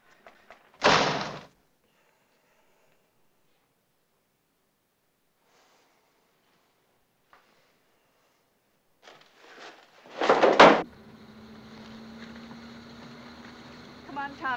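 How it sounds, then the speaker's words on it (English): A car door slams, a heavy thud near the start and another after a long quiet gap, followed by a low steady engine-like hum with faint rustling. "Aren't you going to open the door for me?"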